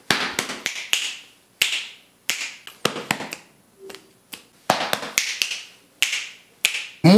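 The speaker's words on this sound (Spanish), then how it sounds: "Tenemos que hacer pecho, pecho, chasquido, chasquido, cruce, cruce." Body percussion in a school class: a run of crisp finger snaps and palm slaps against the chest, repeated in short groups with brief pauses, close and dry with no voices.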